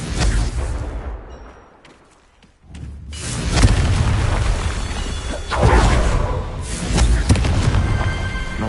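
A Confringo spell explosion in Hogwarts Legacy, a loud booming blast after a brief quiet, followed by sustained rumbling impacts and more bursts of spell fire.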